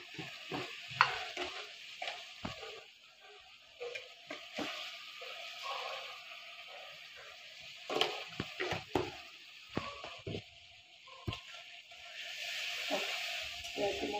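A spice paste with salt, turmeric and sugar fries in a pan with a soft sizzle, while a spoon scrapes and stirs through it in irregular bursts. The sounds are quiet and close.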